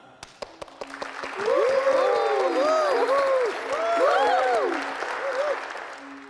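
A school audience applauds students who won a regional skateboard competition. A few scattered claps swell into sustained, lively applause, with high whoops and voices cutting through it.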